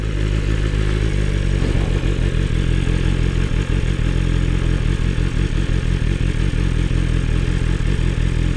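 A 2024 BMW S1000RR superbike engine rumbles at idle close by, a steady low throb with mechanical clatter and a slight blip near the start, alone without talk.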